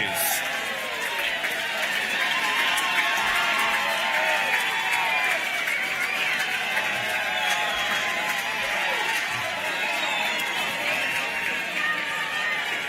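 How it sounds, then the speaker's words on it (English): A crowd at an awards medal night for an Australian football volunteer award applauds and cheers the nominees, a dense continuous clapping that stays loud and steady throughout. "please a huge round of applause as a congratulations to all of the nominees."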